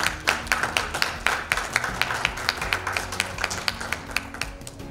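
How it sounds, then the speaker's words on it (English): Sparse, distinct handclaps from a small audience at a closing ceremony, sharp individual claps arriving in an irregular rhythm over about five seconds, fairly faint and alone. "I applaud to all of you."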